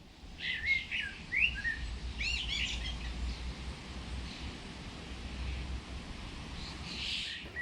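Birds sing in an English garden in early summer among oak, silver birch and field maple trees. Bright chirps and whistled phrases come in short bursts, fairly quiet and somewhat distant, over a soft steady outdoor hiss.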